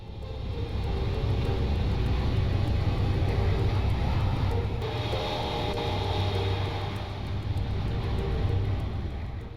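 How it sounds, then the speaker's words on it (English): A Britannia Airways Boeing 757 airliner beginning its takeoff roll at night: a steady, loud engine roar and rumble that holds throughout, swelling slightly, with no voices. "Flight 226A begins its takeoff roll."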